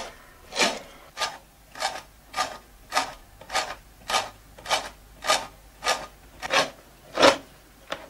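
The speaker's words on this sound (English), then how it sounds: "The holes for the legs are drilled with an auger." A hand auger bores angled leg holes into a wooden chair seat, giving about a dozen evenly spaced rasping strokes, close and clear, with no voices.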